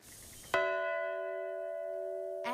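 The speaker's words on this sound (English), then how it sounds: "At noon, you could hear bells ringing throughout Pine Bluff today." A single bell is struck once at a noon bell ceremony in Pine Bluff and rings out clearly, its pure tone hanging and slowly fading before another strike begins.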